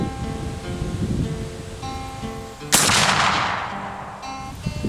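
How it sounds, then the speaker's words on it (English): A single loud, close blast from a .58 caliber Cabela's Hawken muzzleloader rifle fired at a DVD player outdoors, a sharp crack with a long, fading rumble afterward, no talk. "Alright, let's blast this DVD player."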